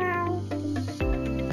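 A cartoon cat in a virtual pet video game gives a short, clear, high meow, then a second brighter mew, over a faint steady game background.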